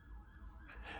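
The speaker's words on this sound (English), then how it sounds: "you can hear some sirens in the background" Emergency sirens wail in the background, faint and distant, as a brief rising tonal sound over a low rumble.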